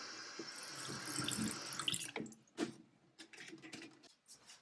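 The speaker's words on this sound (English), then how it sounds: "Just giving it a quick rinse." Tap water runs steadily into a sink as a Cricut cutting mat is rinsed under it, a close, continuous splashing rush that breaks off partway into scattered drips and handling noises.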